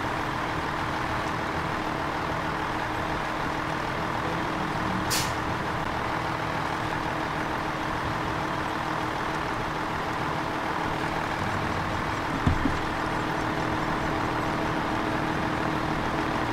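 A heavy service truck in SnowRunner, driving through Maine terrain, with a steady low engine drone throughout, a brief high hiss near the start and a short thump later on, no voices.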